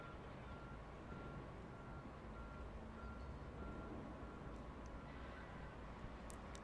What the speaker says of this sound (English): I can hear the reversing beeps of a truck or a tractor or an excavator